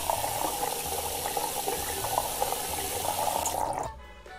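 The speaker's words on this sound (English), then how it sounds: "Just fill up the pot." Tap water runs steadily into a cooking pot in the Cooking Simulator video game, a continuous close splashing fill that cuts off sharply near the end, leaving quiet.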